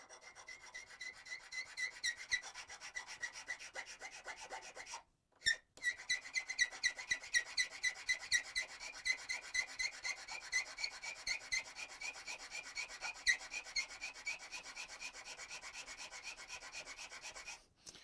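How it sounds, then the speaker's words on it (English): A hand file rasps back and forth across metal in steady, rhythmic strokes, close and fairly quiet, with a brief pause midway before the regular scraping resumes. "we're going to continue grinding on it with this file"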